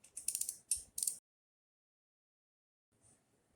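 Ratcheting clicks from a torque wrench tightening timing chain guide bolts on a 2006 Victory 100cc engine, in two short close bursts followed by silence and a faint rustle.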